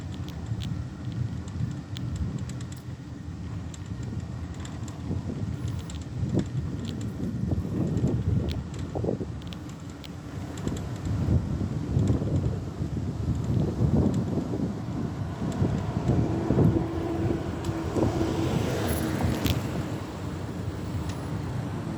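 Wind blows outdoors along a roadside near a highway, a gusty, uneven rush buffeting the microphone at low volume, with faint passing-vehicle sounds mixed in and no speech.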